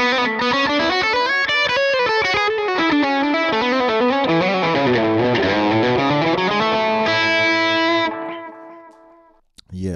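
Distorted electric guitar chords through a Friedman IR-X ring out loud and saturated, shifting through a rhythmic progression before fading out near the end.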